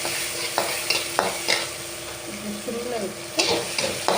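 Green chillies and onion fry in a pan with a steady close sizzle, broken by several sharp scrapes and taps of a spoon stirring against the metal.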